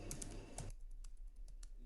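Keys clatter as HTML code is typed on a computer keyboard, with a dense burst of quick clicks at first, then sparser, evenly spaced keystrokes close to the mic against a low hum.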